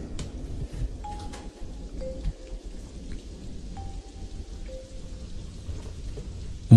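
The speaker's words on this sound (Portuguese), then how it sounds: "Os relâmpagos e trovões logo se fizeram ouvir." Thunderstorm at dusk with steady rain pattering on surfaces and low rolling thunder rumbling underneath, ending in a sudden louder burst.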